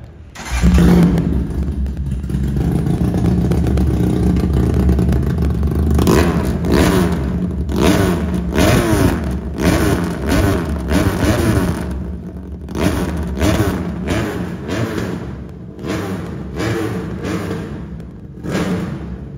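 A 400cc Ducati replica motorcycle engine revs close by, loud and continuous with a steady idle that gives way to a series of sharp throttle blips in quick rhythm, heard alone.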